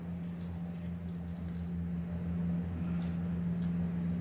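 Water poured into softened, soaked moong dal in a kitchen, a soft continuous trickle and splash running for several seconds over a steady low hum, with no talking.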